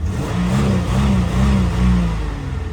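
A cold 1994 Buick Park Avenue engine is revved in a few quick, rising and falling pulses, loud and close, before settling back toward idle.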